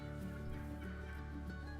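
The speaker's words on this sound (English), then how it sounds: "As a turkey gobbles?" A turkey gobbles in a hunting video game, a faint, warbling fowl call set low in the mix and running steadily with no talk over it.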